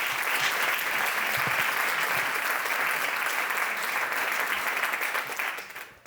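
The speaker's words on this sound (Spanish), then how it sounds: "un fuerte aplauso para los tres" Sustained audience applause at a Spanish event honouring three people for the 75th anniversary of the Annapurna climb, steady dense clapping throughout that fades out at the end.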